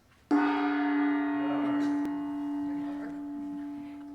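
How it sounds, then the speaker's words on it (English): A gong is struck once to close a noon fishing contest, a single loud metallic hit that rings on with a long, slowly fading shimmer. "the sound of the gong ends the contest"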